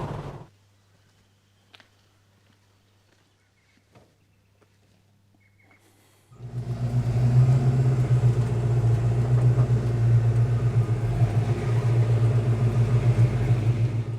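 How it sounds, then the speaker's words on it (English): A 1956 Chevrolet engine starts after near silence and settles into a loud, steady low rumble as the car pulls away, heard from inside the cabin. "I'm behind the wheel of my 56 Chev at the moment."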